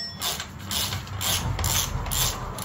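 A wrench with a 19 mm six-point socket breaks loose a rear shock bolt on a Harley-Davidson Sportster, giving a close, gritty scraping and ratcheting grind with creaking metal over a few seconds, no speech.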